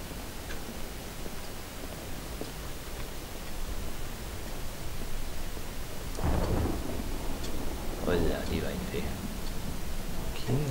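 Thunderstorm in the Pineview Drive horror video game, steady rain hiss throughout with a rolling thunder crash swelling about midway and lingering rumbles afterward, moderately loud and close, with no voices.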